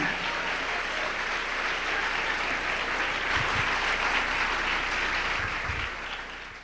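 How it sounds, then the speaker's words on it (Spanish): Congregation at a church service applauding, a steady, dense wash of many hands clapping that holds for several seconds before easing off slightly at the end. "Dele un aplauso al Rey con todo su corazón"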